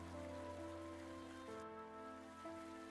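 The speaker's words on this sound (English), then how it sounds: "I hear the sounds of water, not the pitter-patter of rain, but a light splash" In a video game canal scene, water splashes and trickles lightly, sounding like rain on a surface. It is faint and steady, with sustained musical tones shifting underneath.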